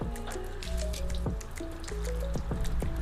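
Water sprayed over a car bonnet treated with mixed sealant and detailer drips and trickles steadily, with a constant wet patter and scattered distinct drops nearby.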